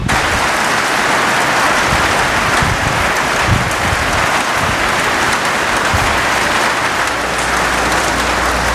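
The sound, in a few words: rain falling on a barn roof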